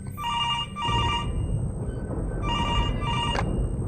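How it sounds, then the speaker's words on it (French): An intercom rings in the VR horror game Evil Inside: two electronic bell-like ring bursts, each split into a quick double pulse, sound loud and close over a low rumbling ambience, with no talking. "c'est l'interphone"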